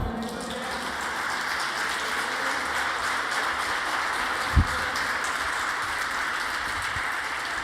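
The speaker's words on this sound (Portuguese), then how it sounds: "Aplauda o Senhor." Church congregation applauding during a sermon, a dense, even rain-like patter of many hands held steady throughout, with one brief low thump partway through.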